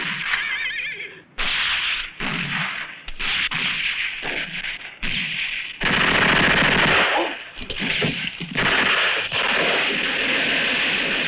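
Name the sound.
machine gun fire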